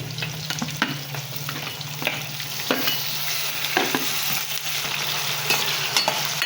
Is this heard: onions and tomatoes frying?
yes